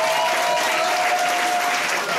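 A church congregation at a 2012 harvest festival service applauds and cheers loudly and steadily, a dense wash of clapping with a faint sustained tone running through it.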